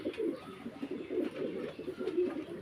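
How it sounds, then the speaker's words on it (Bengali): Pigeons in breeding condition coo softly and repeatedly, low throaty rolling calls close by, against a quiet background. "ফুল বিডিং মুডে আছে কবুতরগুলো দেখেন"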